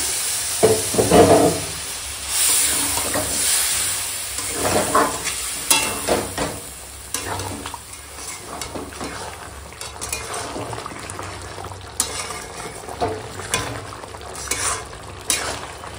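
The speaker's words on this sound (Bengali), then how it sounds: "হ্যাঁ দেখো মাংসটা এখন কষাচ্ছি, আর এখন তলায় লেগে যাচ্ছে।" Chicken curry fries in a pot with a thick spiced yogurt masala that is catching on the bottom, while a spoon stirs and scrapes in repeated near strokes over a soft sizzle, with no talk.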